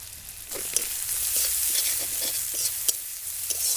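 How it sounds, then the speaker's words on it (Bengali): Chopped onion and garlic sizzle in a spoonful of butter for white sauce pasta, a steady bright frying hiss with soft stirring scrapes and occasional spatula clicks, close up with no talking. "এক চামচ বাটার দিয়ে দেবো পেঁয়াজ কুচি রসুন কুচি"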